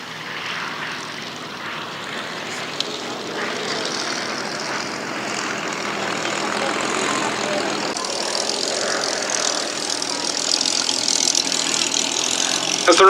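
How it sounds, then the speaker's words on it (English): Spitfire fighters with piston engines coming in to land at the Duxford Battle of Britain air show, a steady broadband propeller drone building gradually louder toward the end, with faint crowd murmur underneath. "As the remaining Spitfires come into land"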